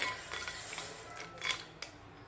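Curd being whisked with half a spoon of sugar for fasting dahi vada, quick light scraping and clinking of a spoon against a bowl in uneven bursts, fairly close and quiet, with no talking.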